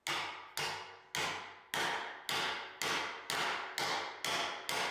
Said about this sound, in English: I'm going to bend it open from the root, similar to a fillet weld break test